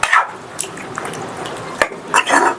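Chicken curry being stirred in a pot after water is added to the marinated chicken, giving wet scraping and clinking strokes in short bursts, fairly close and moderately loud with no talk.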